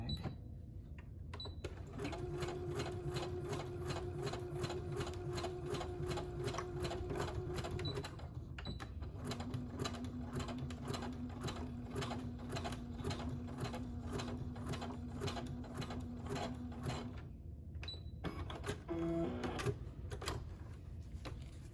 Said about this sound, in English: Stitch all the way back, and then I switch over to zigzag.